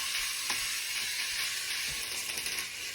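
Stir-fry vegetables being mixed in a hot pan, a dense bright sizzle with a few soft spatula scrapes, close and continuous.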